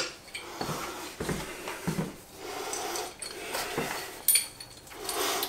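Metal clamps fastened onto a homemade pinball machine rotisserie stand, with scattered clanks, scrapes and metallic rattles at irregular intervals, fairly close and moderately loud.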